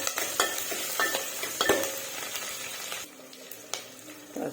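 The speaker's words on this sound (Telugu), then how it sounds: "ఎండుమిర్చి, కరివేపాకు, ఉల్లిగడ్డ, పచ్చిమిర్చి ఇట్లా కలుపుకోవాలి. కొద్దిగా నూనె వేగనియాలి లైట్గా." Dried red chillies, curry leaves, onion and green chillies frying lightly in oil for a tempering, with steady sizzling and several sharp stirring scrapes of a spoon against the pan, no talking.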